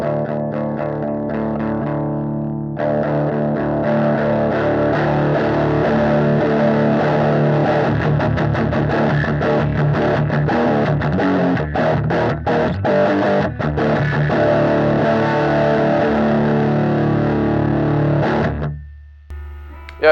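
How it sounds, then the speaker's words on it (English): Electric guitar played through a Peavey Centurion Mark III amp with moderate distortion, sustained chords and riffs ringing steadily for most of the passage before fading out at the end. "At about this level, you start to get some distortion here."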